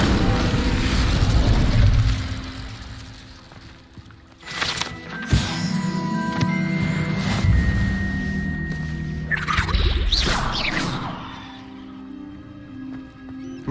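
The Incendio fire spell is cast in Hogwarts Legacy, with a whooshing burst of flame over a dense layer of game sound and music, and sharp magical cracks and bursts that rise and fade.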